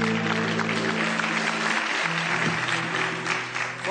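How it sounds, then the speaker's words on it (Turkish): A television studio audience applauds in a steady, dense wash of clapping that fills the whole stretch, with low tones and a faint murmur underneath. "Yo, niye öyle alkışlandı?"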